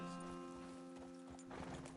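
Horses' hooves clip-clop at a quick pace in the video game Red Dead Redemption 2, over a steady tonal hum, with a brief louder rustle near the end.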